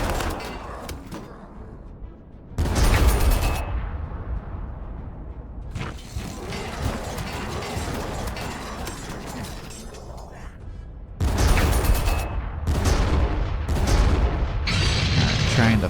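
Heavy artillery fire in the strategy game Warhammer 40000 Armageddon, Orks faction, bursts out in loud booms and crashing impacts, with two distinct salvos over continuous battlefield rumble and mechanical noise.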